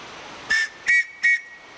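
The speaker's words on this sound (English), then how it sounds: "just blow that whistle at him one time" A survival whistle from an OSIS+ survival kit gives three short, shrill blasts at an even pace over quiet background.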